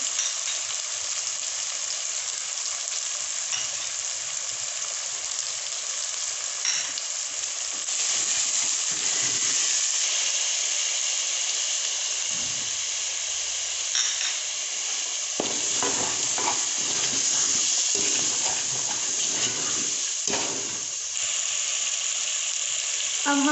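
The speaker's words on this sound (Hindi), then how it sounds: "और हरी मिर्च शामिल करेंगे। अब हम इसमें तमाम मसालों को शामिल करेंगे।" Spices and green chillies sizzle loudly and continuously in hot oil for an aloo gobhi salan, with occasional stirring scrapes over the steady hiss.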